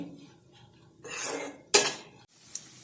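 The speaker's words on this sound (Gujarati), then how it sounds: "હલાવતા જઈ અને સારી રીતે મિક્સ કરતા જઈશું" A spoon stirs and scrapes spiced kantola (spiny gourd) curry in a metal pan, with scattered clinks and one sharp scrape near the middle. The sounds are close and moderately quiet, with no talking.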